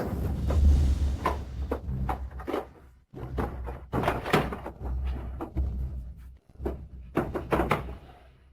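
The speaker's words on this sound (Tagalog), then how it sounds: "Yung tunog ng pagbubukas mo ng drawer" A drawer is opened with loud, close wooden scrapes, clunks and rattles that come in several bursts, broken by two brief silent gaps.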